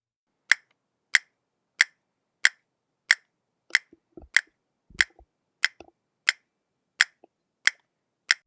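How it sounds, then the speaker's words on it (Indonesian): Crisp castanet clicks sound at an even, steady pace, about a dozen sharp taps, close and clear, with a few soft handling noises in between. "Nah, itu adalah bunyi kastanet."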